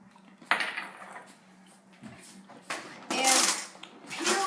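Bowls and utensils clink and clatter in a kitchen as another bowl is handled, several sharp ceramic knocks and scrapes at irregular intervals, close by.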